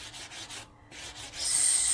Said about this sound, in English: I'm going to give it a sanding.